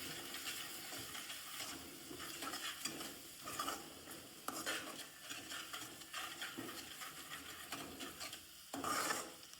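A spoon scrapes and stirs tomato and onion chutney with turmeric and salt in a frying pan, making repeated rasping strokes over a soft sizzle.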